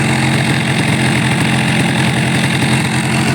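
Warmed-up Cagiva Roadster 125 motorcycle engine idling steadily at close range, a loud even putter with no talk.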